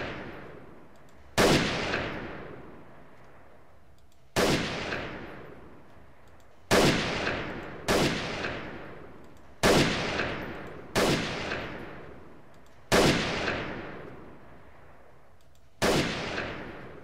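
Video game gunfire, single loud sharp shots spaced a second or more apart, each cracking then ringing out in a long decaying echo, eight shots in a row with no talk.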